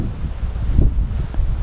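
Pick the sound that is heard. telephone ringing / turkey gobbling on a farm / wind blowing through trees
wind blowing through trees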